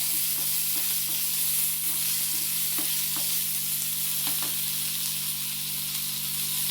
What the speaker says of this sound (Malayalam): കറിവേപ്പില എല്ലാം ഇട്ടിട്ട് ഒന്ന് വഴറ്റണം.